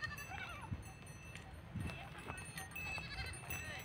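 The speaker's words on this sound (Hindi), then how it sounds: "बकरियाँ और खसियाँ किस तरह से लड़ाई करती है" Goats and castrated male goats on a farm give faint, distant bleats amid outdoor ambience, while someone talks over them.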